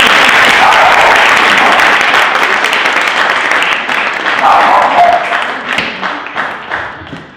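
A large audience applauds loudly and continuously in welcome for speaker Lisa Gable, the dense clapping fading gradually toward the end.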